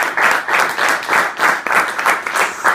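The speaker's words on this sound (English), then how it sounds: "a little round of applause for our functionaries today" Applause from the audience at a Toastmasters meeting, a loud and steady round of many hands clapping that lasts under three seconds.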